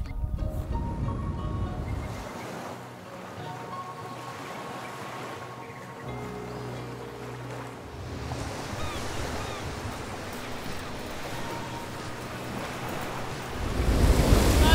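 Surf rolling onto a very wide, popular beach in Sardinia at sunset, a steady broad wash of waves with gusts of wind buffeting the microphone, swelling louder toward the end.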